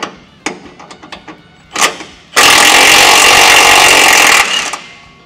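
A power tool removes a factory bolt from the frame of a Ford Bronco Wildtrak. A few light clicks come first, then one loud, close, grinding burst of about two seconds before it stops.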